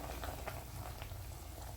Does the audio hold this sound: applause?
no